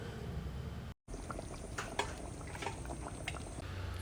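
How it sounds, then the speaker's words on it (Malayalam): Hot water pours into a chicken curry in a cooking pot, a short bubbling, splashing stream with a brief break, close and fairly quiet. "ഇതിലേക്ക് ആവശ്യമായ ചൂടുവെള്ളം ചേർത്ത് കൊടുക്കാം."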